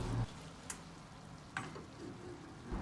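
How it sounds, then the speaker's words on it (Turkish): Soft, steady sizzling of okra frying in a pot, with a couple of faint clinks, low and continuous throughout. "Bamyalar kavrulmaya devam ediyor."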